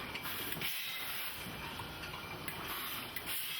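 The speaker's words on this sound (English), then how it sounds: "The probe will actually sip the excess wine off the top, dropping the wine to the proper level." A probe on a wine bottling line draws excess wine off the top of a filled bottle, heard as a steady whirring, clicking mechanical clatter with faint hiss and no talking.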